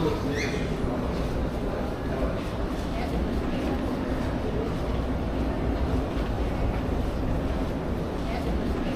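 Hangzhou subway train on Line 2, a steady rumbling roar of the moving carriage filling the whole stretch, with voices talking faintly over it.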